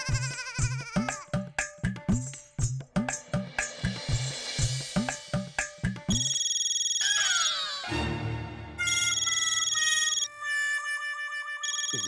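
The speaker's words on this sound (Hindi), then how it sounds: "ये तो टप्पू का फोन बज रहा है" A bright electronic ringtone melody plays loudly and steadily, with repeating tonal phrases, following a stretch of rhythmic pulsing sounds.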